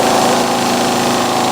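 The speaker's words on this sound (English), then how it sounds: "Let's turn the lathe off." A wood lathe runs with a steady, loud motor hum and a constant tonal whine, close by and unbroken, with no talk over it.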